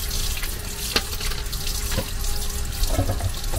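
Hot water runs steadily from a tap inside an RV, a loud, constant close-up rush with a few faint knocks and clinks underneath and no speech.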